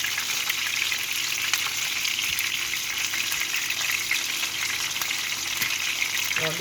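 Fish pieces fry in hot oil in a pan, giving a loud, steady, continuous sizzle with faint crackles throughout and no talking.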